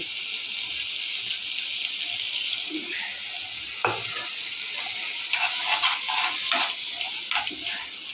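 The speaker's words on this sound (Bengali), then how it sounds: "তো এখন আমি একটু করে জল দিয়ে দিচ্ছি।" Water being added little by little to a dried fish curry cooking in a pan, a steady hissing sizzle with splashy bursts as the liquid hits the hot pan, close and continuous.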